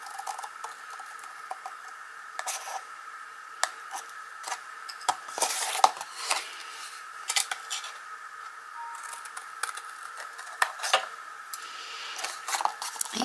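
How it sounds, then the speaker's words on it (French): Scissors snipping through the tabs of a cardboard box for a double box, a run of small crisp cuts and rustles, close and fairly quiet with no talking. "je vais donc couper ces deux onglets ici et les deux onglets ici"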